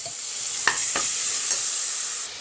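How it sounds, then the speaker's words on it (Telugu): Ginger garlic paste sizzles loudly in hot oil for a chicken curry, a steady close frying hiss with a few sharp stirring scrapes, no voices. "ఇంకా దీంట్లో జింజర్ గార్లిక్ పేస్ట్ 1 పేస్ట్ వేసేసి ఫ్రై చేసుకోండి"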